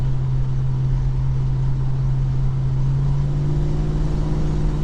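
A Holden HK car engine fitted with new cylinder heads drones steadily while cruising on an open road, a loud continuous low hum from inside the car with no speech.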